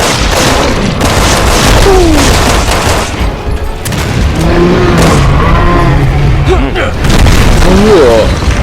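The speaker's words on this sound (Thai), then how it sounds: "ผมปาระเบิดดีกว่า" Loud, dense action in Resident Evil 6 with booming grenade blasts, gunfire and roaring vehicle engines, while a voice talks over it throughout.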